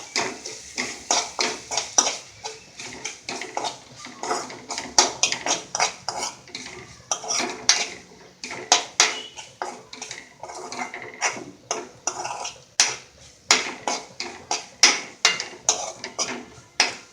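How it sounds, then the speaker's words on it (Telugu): A spoon scrapes and clanks in a pan as ginger garlic paste is stirred for a village-style spicy mutton liver masala, a steady run of close, sharp metallic knocks and scrapes with no talking. "అల్లం వెల్లుల్లి పేస్ట్ పచ్చివాసన పోయేంత వరకు ఇలా మిక్స్ చేసుకుంటున్నాం."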